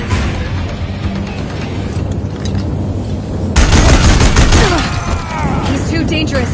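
Deathbringer war machines in Horizon Zero Dawn Remastered unleash a loud, dense barrage of rapid gunfire that erupts midway and rolls on amid explosive booms and game combat noise.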